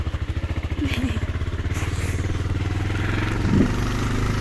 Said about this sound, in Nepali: बाइक चाहिँ जाँदो रहेछ